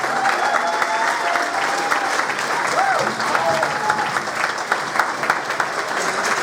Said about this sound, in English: please come up here and give a big round of applause to Mr. Vern Spivak